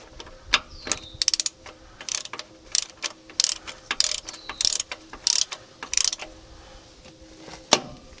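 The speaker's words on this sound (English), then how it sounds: "I feel like I should put a ratchet on this." A hand ratchet clicks in quick bursts while tightening a bolt on a tractor lift arm stabilizer mount, loud close pawl rattles repeating in irregular strokes with short pauses between them.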